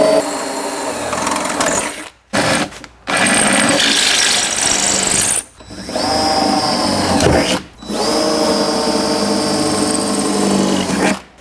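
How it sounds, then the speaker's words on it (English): A power drill bores pilot holes into steel rock skin armor on a Jeep, running loud in three long whining bursts separated by short pauses. "we're gonna drill out a few pilot holes and insert nutserts into those and then bolt it in"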